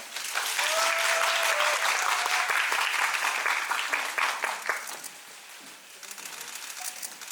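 An audience claps warmly during a stage greeting after a performance of the musical The Hymn of Death, the applause dense and sustained at first, then thinning and easing toward the end.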